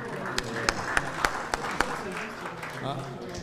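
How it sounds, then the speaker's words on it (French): At a badminton federation general assembly, members clap after a budget vote: sharp, evenly spaced claps ring out over a murmuring room, then give way to voices. "Je pense que vous pouvez vous applaudir déjà."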